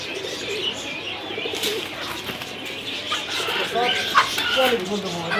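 Pigeons coo among other birds at a busy pigeon market in Jinjira bazar, Keraniganj, Dhaka, with chirps and clucks mixed in and people talking nearby.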